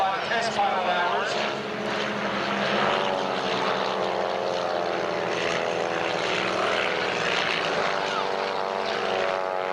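Propeller airplane flying at the 1995 Valiant Air Command air show, a steady droning engine and propeller hum held for the whole stretch, with a voice speaking over it.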